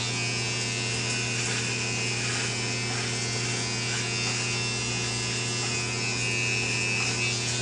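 A Conair electric shaver buzzes steadily and loudly throughout, a continuous motor whine with no pauses.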